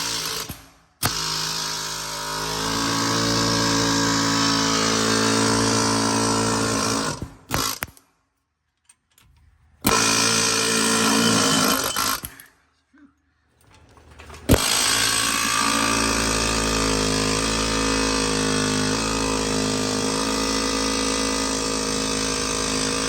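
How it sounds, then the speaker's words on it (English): Loud, rapid air hammer with a pickle fork rattles in long bursts on a Prevost bus tie rod, cutting off into brief silences before starting again for another extended run. "we're gonna try the other air hammer with the pickle fork"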